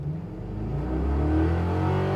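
A 1967 Chevrolet C10 restomod pickup with a 6-liter engine and 4L80 transmission accelerates, its low engine note rising steadily in pitch and loudness, close up with no talk.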